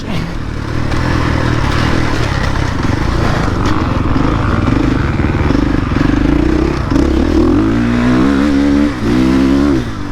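A KTM 450 SX-F Factory Edition dirt bike engine runs loud and close throughout while being ridden, with its revs rising and falling in steady surges and a few sharper climbs near the end.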